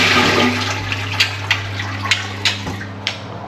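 A toilet flushes during a home plumbing test, a steady rushing of water with a low hum beneath and a few sharp clicks and knocks scattered through it, fairly close and with no one talking.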